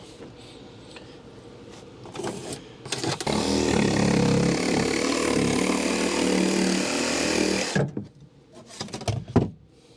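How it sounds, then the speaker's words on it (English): A jigsaw cuts a hole for a vent pipe during an over-range microwave installation in kitchen cabinets. A few short bursts lead into about four seconds of loud, continuous buzzing, then it stops, leaving brief clatters. "now I'm going to trace this pipe out and cut it out with a jigsaw"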